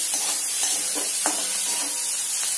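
Pasta vegetables sautéing in oil in a pan over a lowered gas flame, a steady bright sizzle with a few soft rhythmic stirring scrapes, close and even.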